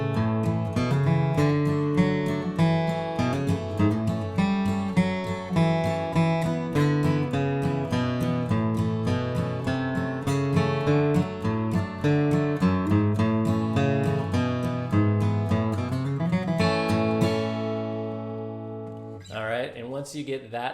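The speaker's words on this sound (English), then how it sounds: "So just the boom chucks, but now you're using the walking bass lines that are in the lower 3 strings." Acoustic guitar playing a steady flatpicked boom-chuck rhythm, walking bass lines on the lower three strings between strummed chords, up close and without talking.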